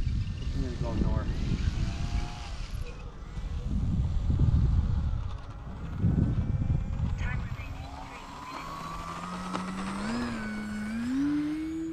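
Small E-Flite Clipped Wing Cub radio-controlled airplane flying in a crosswind, its thin motor whine rising and shifting in pitch as it passes, with wind noise and people talking nearby over it.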